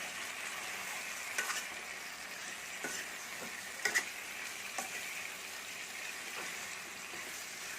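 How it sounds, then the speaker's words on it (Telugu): Marinated chicken for a chicken gravy sizzles softly in a pan with fried onions, a steady quiet frying hiss broken by occasional scrapes and clicks of stirring. "ఇప్పుడు మ్యారినేట్ చేసి పెట్టుకున్న చికెన్ వేద్దాం ఒకసారి బాగా కలపాలి"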